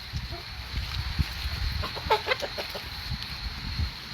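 Chickens and a rooster on a poultry farm cluck close by. Several short, bright calls cluster midway over a steady bed of barnyard noise, with no talking.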